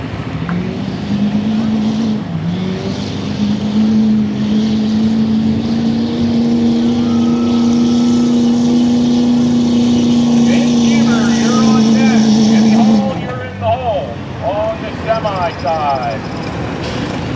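A Kenworth semi truck's diesel engine roaring steadily under load at a Beast of the East truck pull, a loud sustained drone for about thirteen seconds before cutting off, followed by crowd noise and an announcer's voice.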